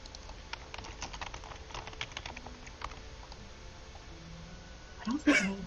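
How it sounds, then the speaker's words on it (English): Typing on a computer keyboard: scattered, quiet key clicks in an irregular patter, faint under a soft background, with a brief louder burst of voice near the end. "I heard typing."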